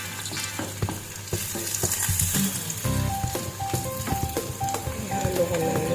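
Onions fry in a pan for tuna flakes, a loud, constant close sizzle with frequent stirring clinks and scrapes running throughout, and no one talking.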